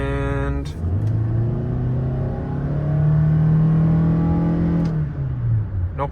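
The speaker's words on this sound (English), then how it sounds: "It sounded like it's working hard, but trust me, that's how the CVT sounds." A 2022 Toyota Sienna XLE AWD with a CVT accelerating hard: a steady, loud engine drone that rises and holds under load for several seconds, then eases off near the end.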